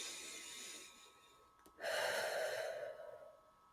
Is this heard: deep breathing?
yes